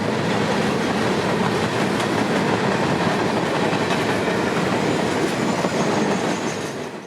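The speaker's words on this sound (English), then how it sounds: "W95516, a work train stenciled from the Winter Haven Logistics Center to Baldwin Yard, routed up the S-line" Work train W95516, bound from the Winter Haven Logistics Center to Baldwin Yard, rolls northbound on the S-line in Central Florida with a steady, loud rumble and clattering wheels that hold throughout, easing slightly at the end.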